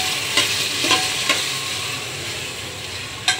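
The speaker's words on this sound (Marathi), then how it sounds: "चांगलं टमाटर पण परतून घ्यायचं आहे, जेणेकरून त्याची ही मधून जाईल, कच्चापणा मधून जाईल." Tomatoes sauté in a pan for homemade chicken biryani, with a steady close sizzle broken by a few sharp scraping stir strokes.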